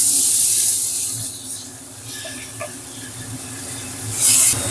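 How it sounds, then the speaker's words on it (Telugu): Chicken frying in a bowl over a natural cooking fire, a steady loud hiss and spray of sizzling oil that dips midway and swells again near the end. "చికెన్ తీసుకొని మనము ఆ బౌల్లో వేసుకొని దాన్ని ఫ్రై చేసుకుందాం"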